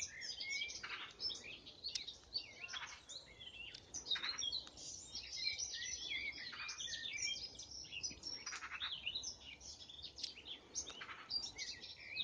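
Many small birds chirp and sing in short, repeated bursts near a hawthorn tree, fairly faint and spread around over a quiet outdoor background, with no voices.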